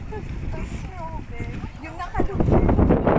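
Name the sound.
strong wind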